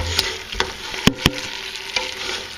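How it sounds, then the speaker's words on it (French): A spoon stirs honey and orange juice in a pan for duck legs, giving a faint sizzle with several sharp scraping clicks and knocks at irregular intervals and no voices. "Et on remue, on remue"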